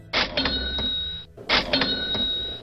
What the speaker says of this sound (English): Each time you hear a cash register,